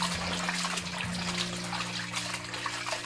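Water running over pork large intestines being rinsed clean, a continuous close splashing and trickling with a steady hum underneath and no pauses.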